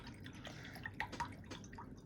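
Light water drips and small splashes as a paintbrush is loaded with water for watercolor painting, a few soft, scattered droplet sounds close by over a quiet room.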